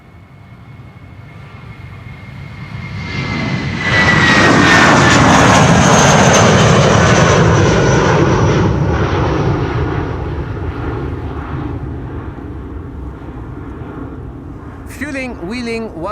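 A jet departing Amsterdam Schiphol's Polderbaan runway 36L in windy weather, bound for Palma de Mallorca, bursts into a loud, close roar that slowly recedes, with a brief voice near the end.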